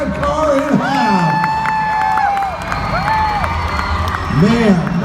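A Monster Jam arena crowd cheers and whoops for the Megasaurus truck, with children's shrill shouts rising and falling over a loud, continuous roar, while an announcer's voice carries over it.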